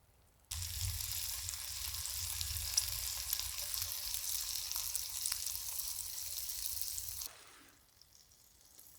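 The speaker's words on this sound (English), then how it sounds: "Bacon's starting to sizzle." Bacon sizzles in a pan over an outdoor campfire, a steady, close, loud frying hiss that starts suddenly, runs for about seven seconds and then drops away to quiet.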